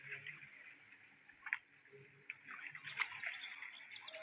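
Water sound in the video game Farming Simulator 20, a steady watery wash and trickle with small splashes throughout, at moderate level with no talk over it.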